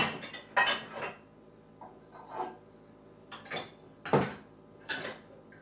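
Dishes, pots and pans and big spoons being loaded into a kitchen dishwasher, with several separate clinks and clatters of dishware spaced across a few seconds, close and moderately loud.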